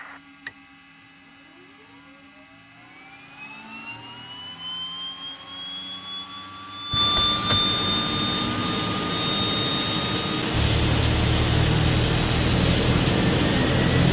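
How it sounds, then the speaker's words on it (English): DHC-6 Twin Otter turboprop engine starting in Microsoft Flight Simulator: after a click, a whine climbs steadily in pitch, then the engine catches and a loud, broad turbine roar and propeller rush take over and hold steady. "So I think we can just start engine number 1."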